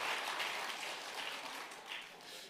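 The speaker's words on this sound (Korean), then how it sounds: "박수" Congregation applause at an afternoon revival service in a church: dense, steady clapping from a crowd filling the space evenly, moderately distant, with no talk over it.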